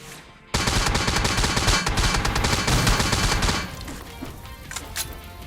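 Gunfire in the PUBG Mobile video game, heard as a loud dense burst of rapid shots that starts abruptly and continues for several seconds, then drops to scattered quieter shots and game noise.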